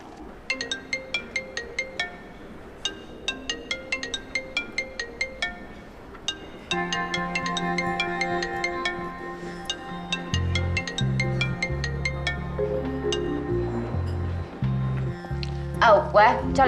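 A phone rings during an outgoing call: a run of short, evenly spaced electronic beeps, then a sustained melodic ringtone with a steady pulsing low tone, fairly close and clear.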